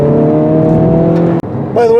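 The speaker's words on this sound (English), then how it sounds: "Your exhaust sound gets a lot louder as you press the gas pedal down" A 2023 Honda Civic Type R's exhaust drones loudly at steady revs, cuts briefly, then roars back as the engine picks up.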